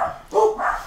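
Dogs indoors let out two quick, close barks in succession, somewhat yippy and loud, with nothing else heard in the brief moment.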